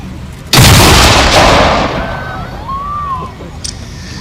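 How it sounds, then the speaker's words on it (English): A WWII gun fires a single blank round at a mock battle during a military show, a sudden loud boom that rolls and echoes away over several seconds outdoors. "I think we want to fire 1 round, please, now, so you'll hear the gun fire."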